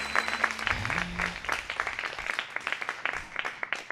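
An audience at an open stage event applauds, starting with a few hoots and a brief whoop, then sustained clapping from many hands that thins out toward the end.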